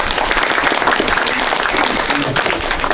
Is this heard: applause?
yes